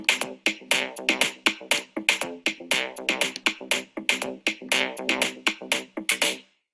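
An electronic bass arpeggio in C loops alongside a drum pattern in an electro production, with steady, evenly spaced pulsing notes and crisp percussive hits driving a continuous rhythm.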